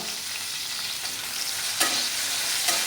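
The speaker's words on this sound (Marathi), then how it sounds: "छान असा ब्राऊन कलर त्याला येईपर्यंत आपण परतून घ्यायचा आहे" Onion, cashews, green chilli, garlic and ginger sizzle steadily in a hot pan for paneer bhaji, a soft continuous frying hiss with a couple of sharper stirring scrapes.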